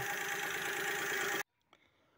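Close, steady drone of a carbureted Daewoo Tico engine held at medium throttle, running evenly before cutting off abruptly into near silence, with a faint click afterward.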